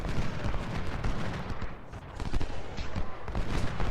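Skirmishers firing musket volleys in the Civil War strategy game Ultimate General: Civil War, a short burst of scattered, crackling shots over low, rumbling battle noise.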